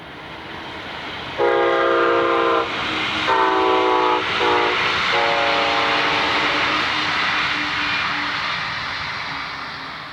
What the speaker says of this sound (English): the train is passing through the CP Bonaventure crossover